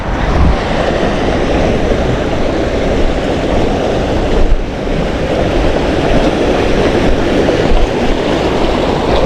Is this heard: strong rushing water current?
yes